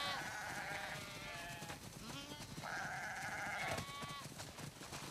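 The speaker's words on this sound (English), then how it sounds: "Wow, that's a lot of sheep." Sheep bleat repeatedly in The Last of Us Part II, a flock being herded toward a barn, with several wavering, overlapping calls sounding close and clear over a soft background.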